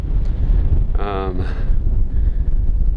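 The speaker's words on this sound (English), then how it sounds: "It's really windy right now." Steady low rumbling wind buffets the microphone throughout on a Continental Divide Trail mountain pass, with a brief tonal whine in the middle and a voice speaking over the gusts.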